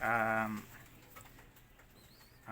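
A young, stunted pigeon gives a short, close, harmonic coo at the start, followed by faint rustling and handling noises.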